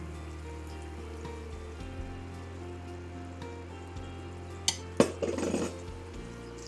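A spoon stirs grated Parmesan into a shrimp scampi mixture in a pan, giving a brief burst of scraping and clinking against the pan near the middle, otherwise just a steady low kitchen hum.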